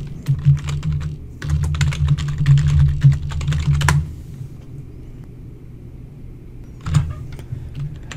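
Fingers type an account number and password on a computer keyboard in quick clattering bursts, a pause, then a few final keystrokes, all fairly close with no voices.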